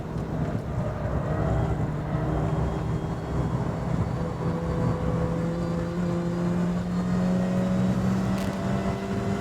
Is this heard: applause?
no